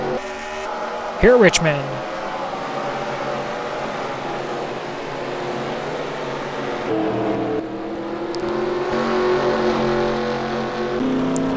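Stock car engines from a racing video game at Richmond roar steadily through the final laps in a Busch Grand National Series race, with a brief loud pass near the start, under a commentator's continuous talk.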